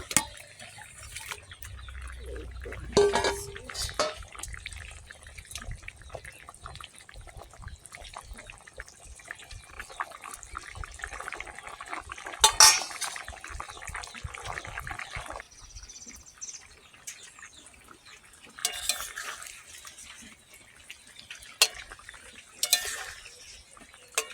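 Fish curry of small puti fish with banana and potato bubbles and simmers in a pan, with soft stirring, spoon scrapes and occasional clinks of cookware across the stretch, moderately close and without talk.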